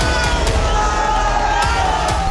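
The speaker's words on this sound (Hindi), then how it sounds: "ये नारेबाजी और जो हुटिंग यहाँ पर हो रही है वो रुकने का नाम नहीं ले रही है।" Dense protest crowd in Shimla with sustained chanting and hooting, a loud continuous roar of many voices with no let-up, punctuated by sharp shouts.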